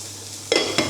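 Food frying in a pan hisses steadily, then two quick scraping stirs cut through the sizzle, close and fairly loud, with no voices.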